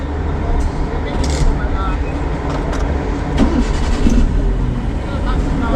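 A petrol vehicle's engine runs with a low, steady rumble throughout, fairly loud and near. Voices talk over the running motor.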